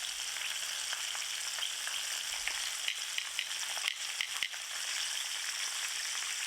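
Floured fish slices fry in hot oil in a pot, giving a steady, close, hissing sizzle with small crackling pops throughout and no talking.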